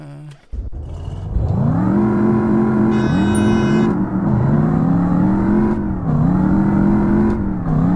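A ute's engine revs hard on a drag strip in the racing game REVHEAD, climbing in pitch through several gear shifts with brief dips between them, loud and close, after a short quiet start.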